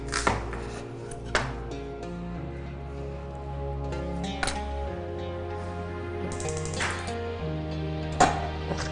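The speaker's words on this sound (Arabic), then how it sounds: "البصل نقطعوه يماسي" A knife chops onion on a cutting board for Oued Souf-style couscous, landing a few sparse, sharp strikes over steady background music.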